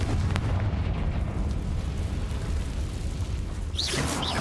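A Confringo blasting spell explodes in the Hogwarts Legacy video game: a loud, booming detonation with a sharp crack near the start, followed by a long rumbling roar and scattered bursts of game effects.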